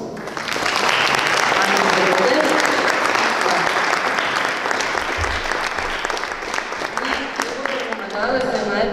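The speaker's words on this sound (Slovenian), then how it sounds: "tako da za Anjo en aplavz" An audience at the opening of a crafts exhibition claps steadily, a dense wash of applause that keeps going without a break and with no speech over it.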